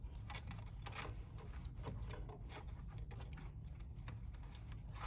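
A sewing machine stitches a decorative seam along the top of a fabric wine gift bag, a soft steady mechanical whir with fast rhythmic needle ticks, close and quiet.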